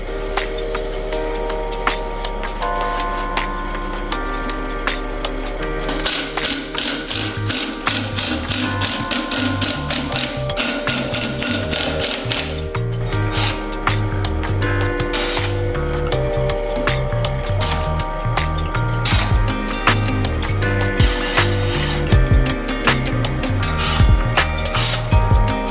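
A ratchet removes clutch and flywheel bolts on a Honda B-series VTEC turbo engine: rapid, close mechanical clicking in repeated bursts with short pauses between strokes.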